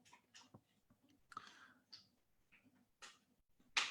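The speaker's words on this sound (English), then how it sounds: "it's because my dog is chewing a toy that I gave him to keep him quiet" A pet dog gnaws on a chew toy, giving scattered crunches, clicks and sharp snaps at irregular intervals, faint and close by, with quiet gaps between the bursts.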